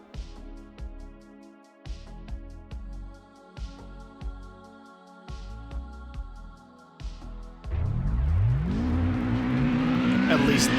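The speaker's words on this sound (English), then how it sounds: "At least this car sounds good." A race car engine in Gran Turismo 2 revs through repeated gear changes, each pull rising then cutting off in a steady rhythm, before settling into a sustained, louder high-revving drone near the end.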